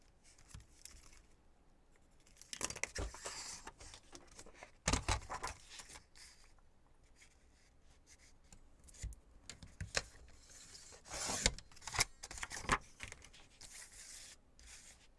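Scissors cut through paper for a decorated journal page: a long run of rustling snips and crinkles in uneven bursts, close and moderately loud, with no speech.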